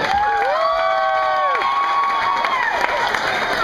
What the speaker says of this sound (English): can we get a round of applause for the bartenders helping us out this evening?